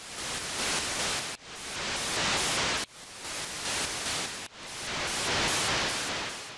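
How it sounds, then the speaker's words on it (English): Synthesized white noise played as a continuous loud hiss, cut into three blocks by brief sharp breaks, with faint repeating tones pulsing high above it. "Since we're working with white noise, it won't be that noticeable when I change the frequency."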